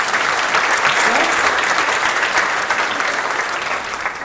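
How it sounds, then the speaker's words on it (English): Audience applause at a school sports awards ceremony, a dense, steady wash of clapping from a large crowd that holds loud throughout and eases slightly toward the end. "give them a round of applause while we start."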